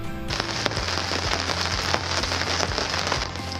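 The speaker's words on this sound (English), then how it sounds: "it turns out we're camping in the rain at Byfield" Heavy rain while camping at Byfield during a storm, a dense hiss of drops drumming on a surface with scattered sharper crackling hits, close and steady with no talk.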